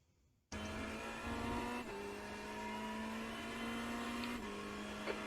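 A Ferrari 488 GT3 Evo racing at Le Mans in iRacing, its engine blaring at a loud sustained pitch after a sudden start, with brief shift dips and steady high revs, no talk.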